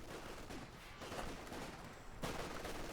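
Grenade blasts and battle noise in Company of Heroes 2 as troops push toward a church, a dense continuous crackle of gunfire with a sharper burst near the end.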